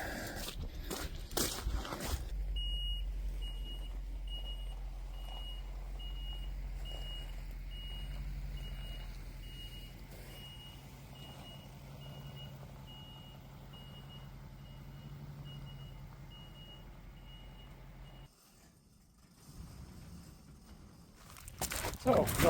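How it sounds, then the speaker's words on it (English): Truck reversing outdoors after a firewood delivery, with steady backup beeps and a low engine rumble running through most of the stretch, while a person talks nearby. "All right, let's get the truck back in"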